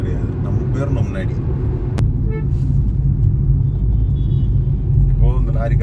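Heavy road traffic on a highway between Hyderabad and Bangalore, with a lorry moving close by; a steady loud engine rumble and road noise run throughout, with a voice talking over it.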